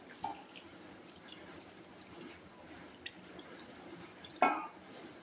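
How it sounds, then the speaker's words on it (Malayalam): Second coconut milk poured over cut dosa pieces for dosa pradhaman, a faint steady liquid trickle with a few small drips and one brief splash near the end, no talk over it. "ഇതിലേക്ക് തേങ്ങാപ്പാൽ 2ാം പാൽ ഒഴിച്ചു കൊടുക്കുന്നുണ്ട്."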